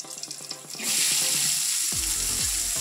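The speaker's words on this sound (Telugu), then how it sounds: "పన్నీర్ వేయించుకున్న నూనెలోనే ఉల్లిపాయ ముక్కలు కొంచెం దోరగా వేయించుకోవాలి" Onion pieces hit hot oil left from frying paneer, and a loud, steady sizzle takes over after some light clinking at the start.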